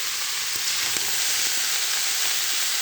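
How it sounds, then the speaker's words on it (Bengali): Cabbage and radish frying in oil with sliced dried chillies in a wok, a loud, close, continuous sizzle and hiss with a few faint stirring knocks, and no voices. "আমি প্রথমে কড়াইতে তেল দিয়েছি, দিয়ে 2টা শুকনো মরিচ কেটে দিয়েছি, দেওয়ার পরে বাঁধাকপি আর মূলো দিয়ে দিয়েছি"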